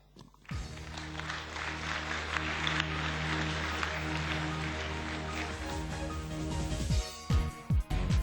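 An audience at a youth assembly applauds a speaker, a dense wash of clapping that starts abruptly, holds steady for several seconds, then thins into scattered claps at the end.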